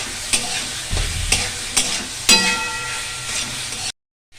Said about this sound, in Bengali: মশলাটা ভাজা হয়ে গেছে, সোয়াবিন আলুগুলো দিয়ে দিলাম। এরপর আরো ভালো করে ভাজবো।